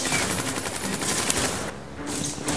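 Rapid gunfire in the Command & Conquer Rivals video game, a dense, continuous stream of automatic shots that stays loud and busy throughout with a short dip near the end.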